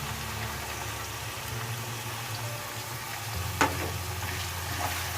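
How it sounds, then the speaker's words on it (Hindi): Ginger garlic paste frying with onions in a pan for chicken achari masala, a steady low sizzle running throughout with a brief clink of a spoon near the middle; no talking. "अब हम इसमें अदरक लहसुन का पेस्ट शामिल करेंगे"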